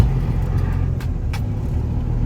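A truck's engine idles with a steady low rumble as it begins to pull out onto a rainy Nashville road, with a couple of brief hissing bursts above the drone.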